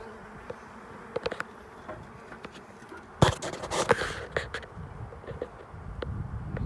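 A honey bee swarm issuing from a hive buzzes steadily throughout, with louder, denser droning swells as bees fly close by and some clattering and knocks mixed in.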